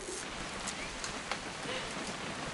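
Steady rain falls in What Remains of Edith Finch, a dense even hiss of drops on surfaces with a few sharper patters, close and moderately loud with no speech.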